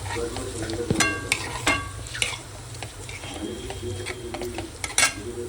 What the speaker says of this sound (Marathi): आता ह्याच्यामध्ये आपण हे बारीक कापलेले अंड्याचे तुकडे टाकूया